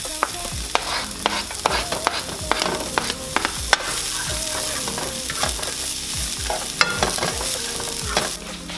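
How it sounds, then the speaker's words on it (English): Onions and minced garlic sizzle steadily in oil in a pan for jackfruit tacos, with a constant close frying hiss broken by repeated scrapes and clacks of a utensil stirring, no voices. "And now I'm adding 2 cloves of minced garlic."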